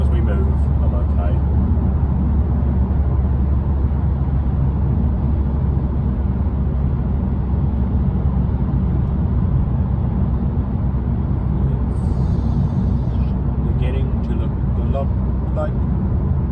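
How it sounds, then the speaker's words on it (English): Steady low road rumble from inside a car on the M25 near the Dartford Tunnel, a constant engine and tyre drone with traffic around, continuous and fairly loud throughout. "Like traffic everywhere I go."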